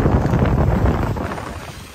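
Strong wind buffets the microphone on a 16ft sailboat at sea, a loud, steady low roar with rushing noise that eases slightly toward the end, with no voices.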